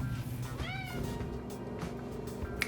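A house cat gives a single clear meow with a rising and falling pitch, close by, over a low steady room hum in a quiet morning home.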